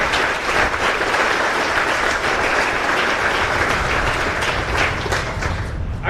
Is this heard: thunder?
no